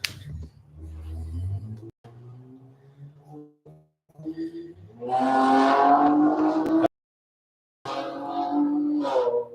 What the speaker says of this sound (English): someone's motorbike's loud